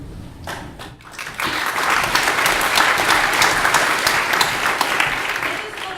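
Applause at a school graduation, with a crowd clapping loud and steady for several seconds after a short quieter start, filling the room without voices on top.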